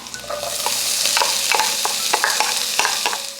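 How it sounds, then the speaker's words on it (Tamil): Chopped onions sizzle in a hot pan while a spoon stirs and scrapes, steady frying hiss with irregular clicks and scrapes up close, in preparation for spicy prawn and egg podimas. "இதை நல்லா ஒரு 2 minutes வதக்கிக்கோங்க."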